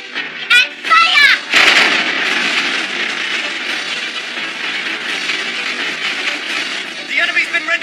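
Cannon fire in an anime airship battle booms in a few heavy bursts at the start, then gives way to a sustained, loud rumbling barrage that rolls on to the end.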